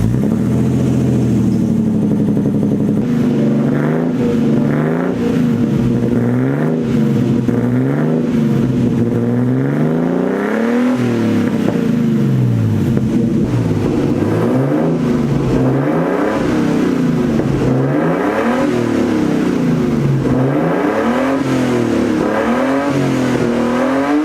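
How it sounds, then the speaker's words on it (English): A Nissan 240SX, an offroad build, revs repeatedly through a custom side-exit exhaust. The loud, close engine climbs and falls in pitch again and again over about twenty-four seconds, with no speech. "I want to start the 240 up and see how this side exit sounds"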